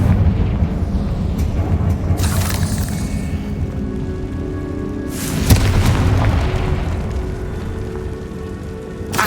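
Confringo fire-spell blasts in Hogwarts Legacy on PS5 land as heavy booms, one at about two seconds and another at about five, over a constant low rumble with crackling debris.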